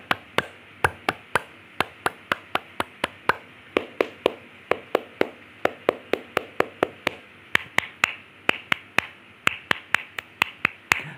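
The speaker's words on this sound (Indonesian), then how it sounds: "3 kali tepuk Pramuka." A group performs the rhythmic Pramuka scout clap, three rounds of sharp, patterned hand claps in quick sequences with short pauses between, crisp and close, with no talking.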